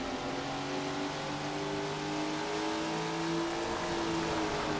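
A sprint car engine in Tony Stewart's Sprint Car Racing game, racing at Woodley, roars at high RPM with a steady, droning revving whine and shifting harmonic tones, close and continuous with no talking.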